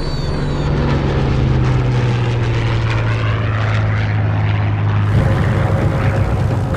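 Low-flying American propeller-driven torpedo planes roar past the Japanese battleship Hiei only 150 feet off the water, a loud, continuous engine drone whose pitch shifts abruptly as the planes pass.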